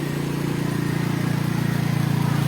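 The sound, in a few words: car engine revving while driving through flood water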